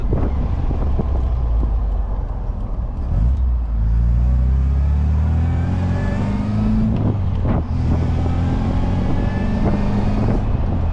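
A supercharged MGB accelerates hard on a road run, a loud, steady engine drone that climbs in pitch under strong wind buffeting.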